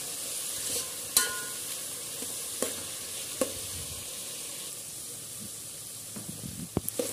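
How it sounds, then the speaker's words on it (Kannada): Mixed vegetables frying in a pan for vegetable biryani, a steady close sizzle and hiss with occasional clinks and scrapes of a spoon stirring, no voices over it. "ಈಗ ತರಕಾರಿ ಎಲ್ಲ ಹಸಿ ವಾಸನೆ ಹೋಗೋವರೆಗೂ ಚೆನ್ನಾಗಿ ಫ್ರೈ ಮಾಡ್ಕೊಳ್ಳಿ."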